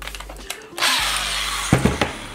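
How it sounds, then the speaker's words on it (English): A power drill bores hook tie slots into a handmade fishing lure body, a brief whirring burst up close that winds down after a second or so, alone without talk. "I need to go ahead and drill"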